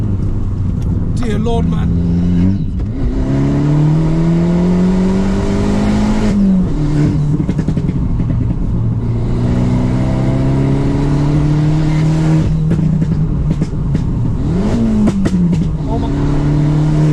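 A 2009 Abarth 500 tuned to Stage 1+ on a track, its engine heard from inside the car revving up through several rapid gear changes with brief dips between pulls, loud and continuous, while a man exclaims over it.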